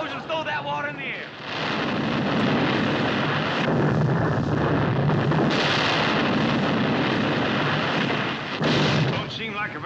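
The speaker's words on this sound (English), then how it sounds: "Look at them explosions throw that water in the air." A series of heavy, booming explosions in water with long roaring rushes of spray thrown into the air, each swelling and lingering, loud and close with little pause between them.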